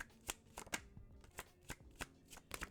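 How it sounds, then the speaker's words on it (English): A new, slippery cardstock tarot deck is shuffled close up in quiet, crisp riffling bursts, about eight quick flicks spaced irregularly with soft pauses between. "Still working out the perfect shuffle technique."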